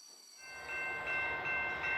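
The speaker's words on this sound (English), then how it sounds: "Here is a big orange freight train pulling lots of colorful carriages." A big orange freight train pulls many carriages past, rising from quiet into a steady, close rumble of rolling wheels with a faint high whine over it.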